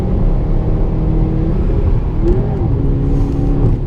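A Subaru WRX or STI engine roars loudly up close with a steady rumble and a brief rise in pitch as it revs, no talking.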